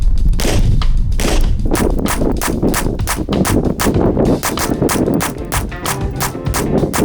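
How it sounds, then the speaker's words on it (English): Beretta pistol fired one-handed in a rapid string of loud, sharp shots, one after another with short gaps, close and dominant throughout. "John seemed to fire his Beretta one-handedly a lot"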